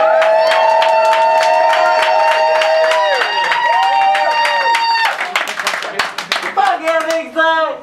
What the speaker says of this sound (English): the loudest cheer wins